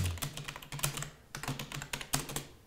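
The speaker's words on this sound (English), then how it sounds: "right here by just touch typing" Rapid touch typing on a computer keyboard while free-texting a patient's complaint into healthcare software, a close, steady patter of key clicks in uneven bursts with no talking.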